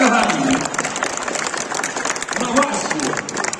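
Audience applause at the premiere of an ARP Pilea 12e bus at the TransEXPO 2022 trade fair, a thin, scattered patter of clapping with voices and crowd murmur mixed in.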